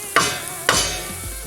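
Two quick scrapes of a spoon stirring mince with chopped garlic in a pan, close and fairly loud, each with a short sizzle trailing off.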